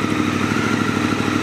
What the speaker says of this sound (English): Now straight away you can hear the exhaust notes different.